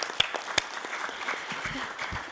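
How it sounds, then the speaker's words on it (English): Quiet applause from an audience at a UNICEF global campaign launch event in the Asia-Pacific, a soft steady patter of clapping with a couple of sharper claps near the start. "Applaud, please."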